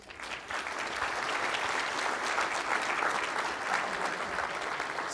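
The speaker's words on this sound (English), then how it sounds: "I think they deserve a round of applause." Keynote attendees at a public sector summit break into a round of applause that swells quickly and holds at an even, moderate level for several seconds.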